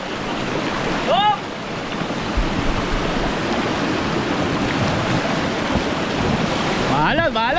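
Churning river water rushes and splashes around a small boat on the river at Pagsanjan Falls, a loud continuous wash with brief whistling or whooping voices near the start and end.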